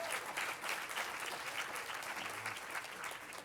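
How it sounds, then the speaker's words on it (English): Applause from a community celebration audience honouring a local group's milestone, a faint, steady wash of clapping heard from a distance. "Please, another round of applause for them."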